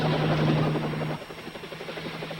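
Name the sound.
crop duster helicopter flying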